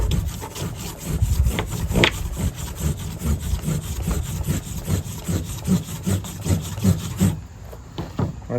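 Cotton fire rolls with mullein are rolled back and forth in sticky pine resin, giving a steady, close rubbing and grinding sound in repeated strokes that stops abruptly near the end.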